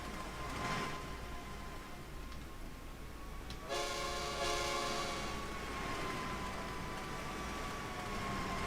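A short train in Trainz 2 rolls across a bridge with a steady rumbling rattle, then a sustained horn blast sounds midway and holds over the continuing wheel noise.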